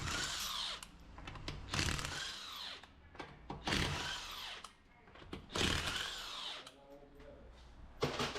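A power tool spins off the lug nuts on a Volvo XC90 rear wheel with a 19 mm socket, loud repeated bursts of whirring and rattling a second or two apart, with short pauses between nuts.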